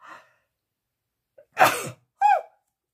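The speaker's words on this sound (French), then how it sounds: "Je crois que je vais éternuer." A single sharp sneeze preceded by a brief inhaling build-up, followed moments later by a short vocal exclamation, close to the microphone.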